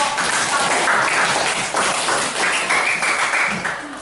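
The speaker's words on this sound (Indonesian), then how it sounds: "beri aplaus dulu untuk kelompok" A classroom group of students applauds, a dense burst of clapping lasting several seconds at steady volume before tapering slightly.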